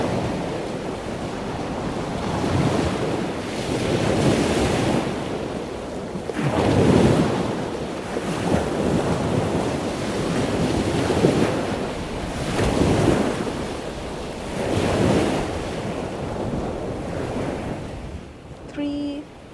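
Ocean waves at a beach at sunset roll in and wash out in slow, loud surges every few seconds, with steady wind buffeting the microphone throughout.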